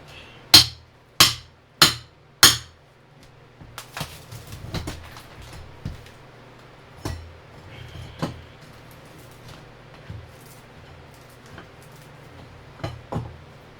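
Four sharp, loud hammer strikes ring out in quick succession, followed by scattered lighter knocks and taps at irregular intervals, with no talking.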